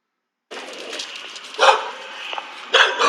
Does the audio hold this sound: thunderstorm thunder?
no